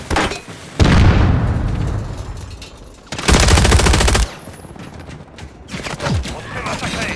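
Loud bursts of automatic gunfire and booming shots from a Call of Duty Modern Warfare 3 multiplayer match come in several heavy volleys, with game voice lines and battle noise filling the gaps between them.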